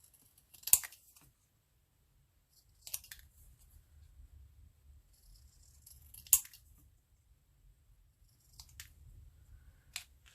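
Scissors cutting around paper ephemera for an altered book, heard as a few sharp, close snips spaced several seconds apart over a faint low background rumble.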